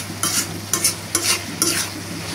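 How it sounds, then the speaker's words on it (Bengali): Papaya fried and stirred in a pan, with a steady low sizzle broken by four scraping stirs of a spatula at a regular pace, close by. "আর দুপুরবেলা আজকে আমরা পেঁপে ভাজি করছি"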